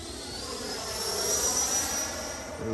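A whining Freewing Avanti S 80mm electric ducted fan RC jet cruising past steadily on a slow pass down the runway, a high-pitched turbine tone over a constant airy rush, fairly close and continuous.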